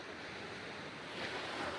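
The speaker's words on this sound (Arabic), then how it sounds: "ها البحر" Sea waves wash continuously onto the shore, a broad steady roar of surf with some wind buffeting the microphone, swelling slightly toward the end and with no voices heard.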